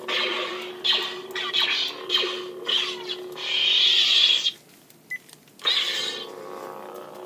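An electronic lightsaber with the Bespin sound font hums under a series of swooshing swings and crackling clashes, briefly drops to near silence, then flares up again.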